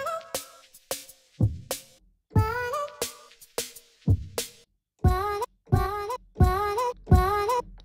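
A rhythmic programmed beat built in Logic Pro without plugins, layered under tonal synth sounds, plays as a steady series of punchy hits with pitched melodic stabs, alone with no talking.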